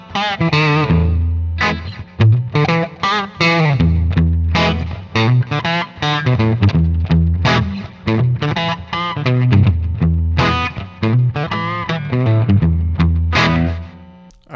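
Electric guitar through the Fine Classics Vintage Vibe amp sim set for country twang, playing a loud, continuous run of bright picked notes and chicken-pickin' phrases with light distortion, chorus and echo.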